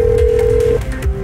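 An outgoing phone call rings with a steady electronic tone that holds, then pauses and resumes at a lower pitch, loud and close over a low background hum.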